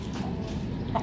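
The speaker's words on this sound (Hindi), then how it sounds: "गाइस ये है हमारा न्यू मुर्गा" A new rooster clucks close by in a brief, short burst of throaty calls, with no talking over it.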